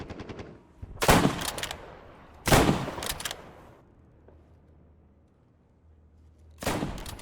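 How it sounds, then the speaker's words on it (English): Rifle fire at targets in the World War II shooter Squad 44, three loud, sharp bursts of shots a couple of seconds apart, each ringing out and fading into quiet. "Just simply shoot the targets."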